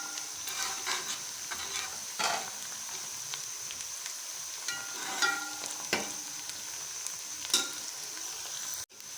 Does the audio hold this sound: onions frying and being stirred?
yes